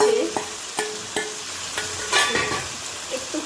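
Spice-coated mushrooms drop into a hot pan and sizzle steadily, with repeated scraping stirs of a spoon against the pan at a regular pace, close and fairly loud.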